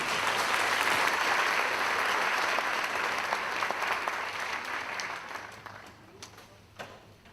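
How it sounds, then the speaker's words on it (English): Audience applause fills a packed hall at a university parents' orientation, loud and steady clapping that gradually thins and fades out toward the end. "And give them all a round of applause."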